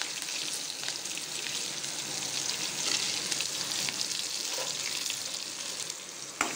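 Onions, green chillies and curry leaves sauté in hot oil for a dried anchovy thokku, with a steady, dense sizzle and crackle running throughout, close and even, ending in a faint clink.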